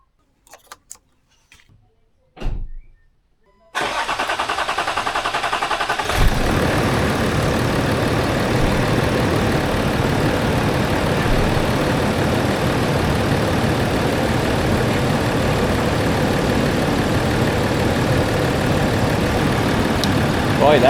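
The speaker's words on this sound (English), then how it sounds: "Boy, that engine is running quiet." A few quiet clicks and a brief crank, then a Land Rover Discovery 4's rebuilt engine catches and settles into a steady, even idle that runs on loudly.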